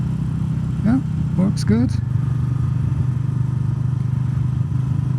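Motorcycle engine held around 3000 RPM with a steady low idle-like drone throughout, close by, while a person speaks briefly over it early on.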